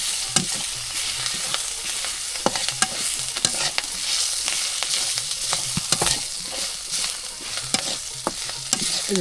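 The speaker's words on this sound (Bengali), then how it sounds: "তো খুব সুন্দরভাবে কিন্তু আমরা ভেজে নিচ্ছি" Greens frying in a pan on a village clay stove, a continuous hissing sizzle with frequent spoon scrapes and knocks against the pan, close up and without any voice.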